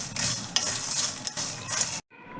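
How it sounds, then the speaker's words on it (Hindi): Ingredients roasting in a spoonful of ghee in a pan sizzle steadily under brisk stirring scrapes, close and loud, before cutting off sharply into near silence at the end. "देखिए अच्छे से रोस्ट हो रही है, चूरा चूरा हो रहा है।"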